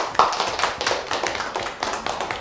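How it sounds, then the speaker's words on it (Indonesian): Small group clapping in a university teaching workshop, a brisk, moderately close patter of hands with fairly even loudness for a couple of seconds and no voices. "Oke, tepuk tangan."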